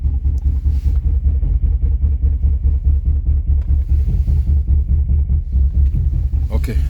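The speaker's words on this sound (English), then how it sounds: "So the car is running now." A 2010 BMW X5 E70 50i V8 engine idles with a deep, steady rhythmic rumble, close by, and a few faint noises on top; the car will not accelerate.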